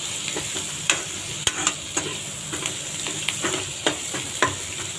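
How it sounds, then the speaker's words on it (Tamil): Onions and tomatoes sauté in a pan for brinjal poriyal, a continuous sizzle broken by repeated sharp scrapes and clacks of a spoon stirring at an uneven pace. "இப்போ நம்ம கட் பண்ணி வச்ச தக்காளியும் போட்டு அது கூடவே வதக்கிக்கலாம்."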